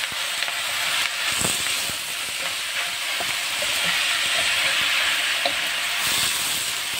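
Swansai vegetables frying in a pan: a loud, continuous sizzle and hiss of greens in hot oil, with occasional crackles and soft stirring knocks, close up and unbroken.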